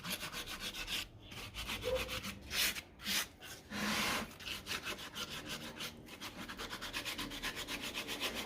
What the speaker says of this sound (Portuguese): Se você quiser abaixar o pé um pouquinho, é só você molhar a lixa e abaixar